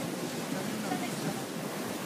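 Floodwaters of the overflowing Lurín river in Cieneguilla, Peru, rushing and roaring as a dense, steady broadband wash with no break, close and loud.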